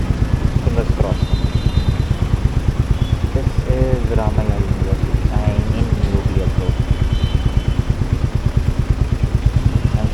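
A Royal Enfield Meteor 350cc motorcycle rides through Bangalore city streets, its thumping single-cylinder engine beating steadily and close throughout while the rider talks over it.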